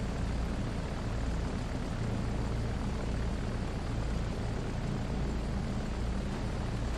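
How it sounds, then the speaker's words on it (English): Devastator torpedo bombers in the naval war game Victory at Sea Pacific, a steady, dense propeller-engine drone that holds at an even loudness throughout with no breaks and no talking. "And the aircraft's going in, right."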